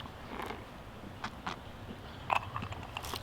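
Someone bites into and chews home-fried old-style chicken, with a few crisp crunches and soft mouth sounds at close range and no talk.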